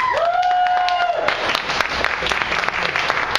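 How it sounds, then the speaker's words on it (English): Audience applause at a twirling charity event, scattered claps and crowd noise rising after a sustained sung or held tone at the start, with sharp individual claps standing out. "big round of applause for all of them."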